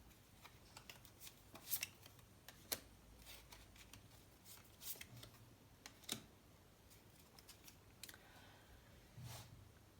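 Tarot cards are shuffled and drawn in quiet surroundings, producing soft papery riffles and scattered light clicks and flicks spaced irregularly, with no voices.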